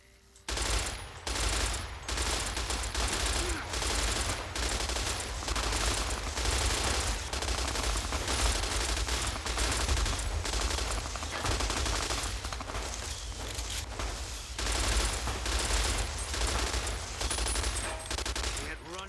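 Sustained rapid gunfire in Fallout New Vegas, loud and close, with dense overlapping shots and bursts running almost continuously through the whole stretch, with no talking.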